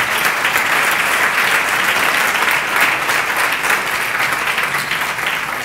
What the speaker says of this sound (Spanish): Un aplauso para este hombre, ¿no?